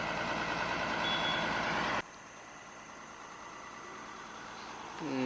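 A lorry on a road, heard as loud broadband engine and road noise that drops abruptly midway, then a steady lower rumble with a rising engine tone near the end.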